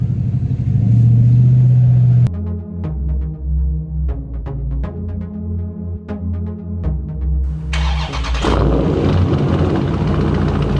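Dodge Charger 392 Scat Pack HEMI V8 with a new pedal box, loud, close exhaust: a deep idle burble, a sharp cut, pulsing blips of throttle, then a rising roar of acceleration.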